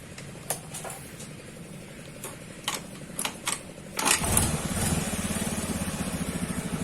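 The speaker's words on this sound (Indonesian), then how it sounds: "Jadi motor kita nyalakan dulu, kita cek di sini" An older Honda Beat motorcycle engine cranks with a few short clicks, then catches and settles into a steady, close idle with a rapid pulsing rhythm.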